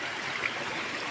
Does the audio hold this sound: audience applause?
no